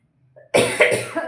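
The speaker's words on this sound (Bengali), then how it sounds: "কাশিটা তো হচ্ছে" A single sudden, loud, close cough from a person with a cold, breaking out of near silence after a faint breath.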